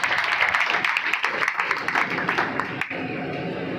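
A church congregation at a sermon in Karachi breaks into sustained applause, a dense crackling wash of many hands clapping at once that holds steady before settling.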